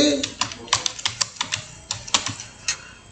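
Computer keyboard typing during a webinar, a run of quick, uneven key clicks close to the microphone, with faint voice in the background.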